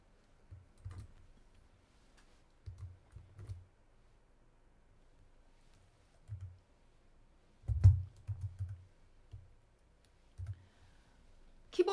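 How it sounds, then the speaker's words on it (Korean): Soft, scattered keyboard key presses click at an irregular pace in a quiet room, about a dozen taps with longer pauses between. "여러분들은 키보드로 단축키는 B 눌러주시면 되고요"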